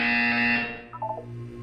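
A loud, harsh electronic buzzer from the video game Portal 2 blares for about half a second, then decays into a ringing tail with a faint hum beneath.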